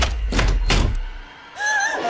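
A door being unlocked in a horror-film home: a few heavy thunks and knocks from the latch, then a brief high electronic chime from the lock as things settle, fairly close and clear.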